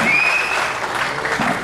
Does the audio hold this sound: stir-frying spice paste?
no